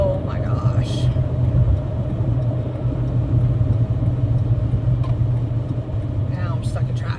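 Steady low rumble of a car idling and creeping along in holiday beach traffic, a continuous engine drone close by with brief faint interior noises.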